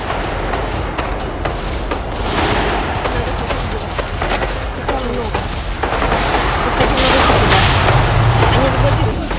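Gunfire and explosions at Crocus City Hall in Moscow crackle in rapid, overlapping bursts through a noisy, chaotic scene, with occasional heavier booms and voices mixed underneath.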